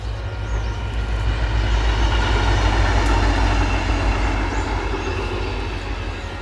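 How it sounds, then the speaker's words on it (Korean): A train rumbles past a riverside park during a cherry blossom festival, a loud, steady low roar with rail clatter filling the whole stretch, close by and continuous without talk. "소리 기차 지나가요."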